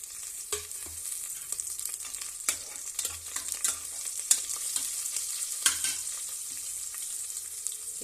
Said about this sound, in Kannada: ನೋಡಿ ಈರುಳ್ಳಿ ಫ್ರೈ ಆಗಿದೆ ಈ ಸೋಮಕಾಳು ಚಕ್ಕೆ ಲವಂಗ ಏಲಕ್ಕಿ ಹಾಕ್ತೀನಿ